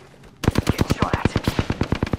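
Rapid machine gun fire in a shooter video game, a loud sustained burst of evenly spaced shots that begins abruptly after a quiet moment.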